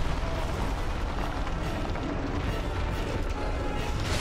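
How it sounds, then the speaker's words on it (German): An explosion in the video game Dark Souls: Remastered, a heavy rumbling blast with crashing debris that roars on steadily without a break. "wenn ich von der Explosion gekillt werde und dann in seiner Melee-Range stehe"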